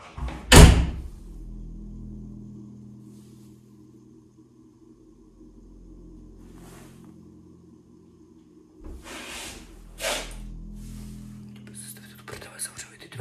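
Interior house door slammed hard once near the start, with a few lighter knocks and bumps later on, close and loud against a quiet night-time room.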